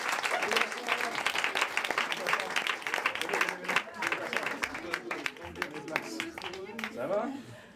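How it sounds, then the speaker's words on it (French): A live audience applauds after a hypnosis demonstration by stage hypnotist Messmer, with dense clapping and crowd voices mixed throughout. "je pense qu'il mérite une bonne main d'applaudissement"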